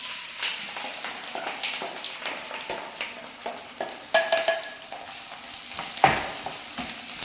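Ginger, garlic and green chilies fry in hot sesame oil, giving a steady crackling sizzle with occasional louder pops and stirring clatter, heard close and with no talking.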